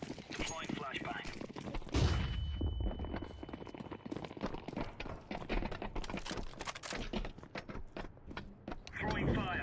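A flashbang grenade goes off in the RoboCop Rogue City video game, a sharp burst near two seconds inside a dense stretch of game combat with gunfire, impacts and shouting voices.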